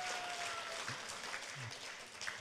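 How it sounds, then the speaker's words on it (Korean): Brief, fairly faint clapping from an audience at a crypto event in Korea, scattered hands under a general room murmur. "네, 박수 한번 쳐주세요"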